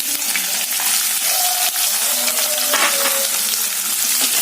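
Dried red chillies, green chillies and onions frying in hot oil in a pan for Andhra-style cucumber curry, giving a steady close sizzle with faint stirring scrapes throughout.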